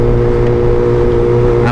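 A motorcycle fitted with a Pro Speed Black Shark exhaust silencer rides past in a loud, steady, buzzing engine drone with a strong low hum, close and without talk.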